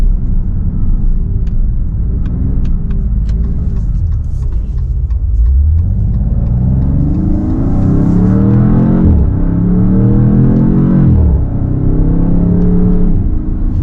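A 2026 Dodge Charger R/T sedan with the Hurricane engine pulls hard, heard up close. Its loud rumble climbs through rising revs, eases at each upshift, then builds again, with no voices over it.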